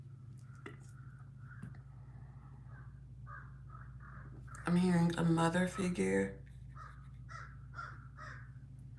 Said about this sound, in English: Y'all hear the crows, the ravens and crows in the background, cawing.